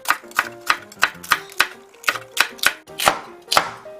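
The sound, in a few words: knife slicing green chili peppers diagonally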